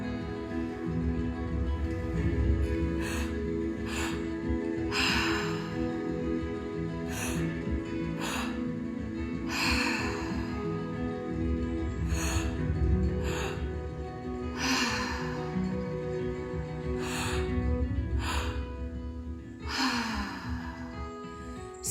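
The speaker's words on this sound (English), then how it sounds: "Seeing if you can slow down the breath so you can really take a full inhale into the belly." Slow, deep belly breaths during a breathwork meditation: long, airy inhales and exhales repeat in a steady rhythm over a low continuous musical drone, with no talking.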